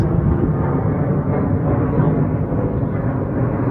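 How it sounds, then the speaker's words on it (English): A plane passes overhead near a monastery, a steady low rumbling roar that stays broad and continuous throughout with no speech. "So we can hear a plane moving overhead."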